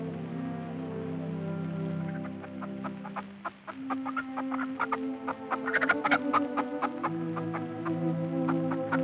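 Chickens cluck around a rural shelter in a 1950 western film, a steady run of short clucks and squawks over a low background hum, busier and louder in the second half with no talk.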